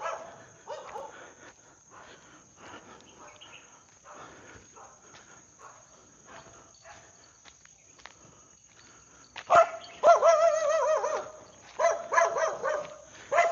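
On a Surat Thani farm where properties have only mesh fences, a dog stays quiet at first under soft shuffling and footsteps, then breaks into a run of sharp, fairly close barks near the end.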